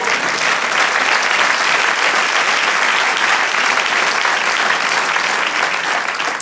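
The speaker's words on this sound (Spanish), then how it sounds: "Otro aplauso al Señor." Steady, dense applause from a church congregation during a sermon, sustained and full for several seconds with no voices over it.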